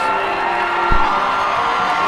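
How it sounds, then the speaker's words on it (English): Roaring arena crowd at an MMA fight night cheering as a local favorite fighter makes his entrance, a dense wall of shouting and whooping with a short thump in the middle. "You can hear the crowd going crazy."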